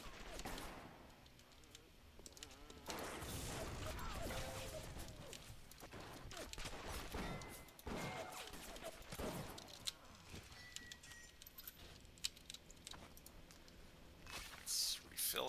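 Gunfire from a security bot battling enemies in the PC game BioShock: faint, scattered bursts of shots and sharp clicks within a dense, noisy game soundscape.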